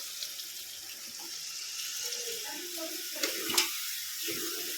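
Water is poured into a pot during home cooking on a gas stove, a steady close running-water hiss with faint sizzling, while a voice talks quietly underneath.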